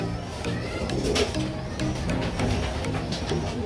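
Large mature north-bred racing pigeons coo continuously in a loft, overlapping low throaty calls amid a busy background of rustling and faint chatter, close and fairly loud.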